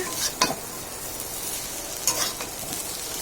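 Chow mein stir-fried in a pan without oil, giving a steady soft sizzle with a few sharp scrapes of the utensil against the pan.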